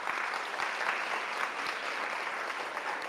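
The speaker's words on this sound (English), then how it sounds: "So you can give them a round of applause" A crowd applauds steadily at a maths exam preparation session, a dense wash of clapping from many hands that holds at an even level throughout.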